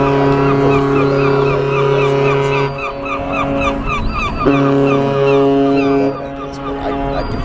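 Ship horns blast loudly in long, deep, sustained tones, with two brief pauses separating three held blasts, filling the space at close range.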